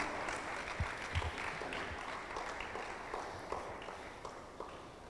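A congregation applauds in a church service, a soft, steady patter of many hands clapping at a distance, with a few sharper thumps scattered through it.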